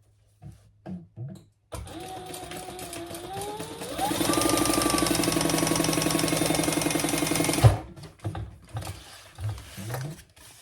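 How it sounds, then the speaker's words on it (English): A sewing machine stitching across the bottom of layered pockets on a triple sling, a continuous mechanical whir with rising motor whine running about six seconds and then stopping with a clunk, close, framed by quieter fabric handling. "we're going to bring those pockets together and sew across the bottom"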